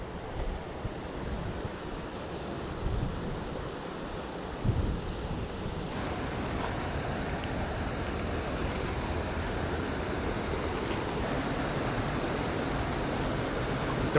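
Steady rushing water from a trout creek fills the scene, a broad continuous wash close to the microphone, growing slightly fuller partway through with light wind buffeting and no talking.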